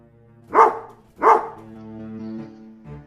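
A cartoon dog gives two sharp, close barks about a second apart, followed by a softer, lingering tonal sound with no talking.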